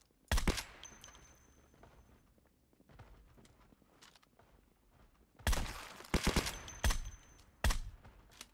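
Gunfire in Fallout comes in a short loud burst near the start and a longer cluster of sharp, close shots later, with quiet footstep-like shuffling in the gap between.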